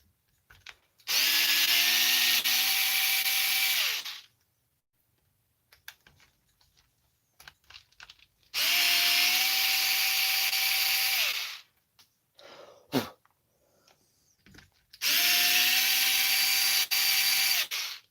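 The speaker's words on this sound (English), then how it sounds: "4 screws bottom here. We got to take those off." A small electric screwdriver backs screws out of the bottom of a Redcat TRMT8 RC truck center differential in three loud, steady whirring runs of several seconds each, separated by quiet gaps with light clicks and handling noise.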